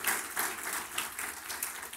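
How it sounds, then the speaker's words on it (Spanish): Church congregation applauding during a sermon, a steady dense wash of many hands clapping that runs continuously, moderately loud and fairly close, with no voices on top. "Démosle ese aplauso al Señor"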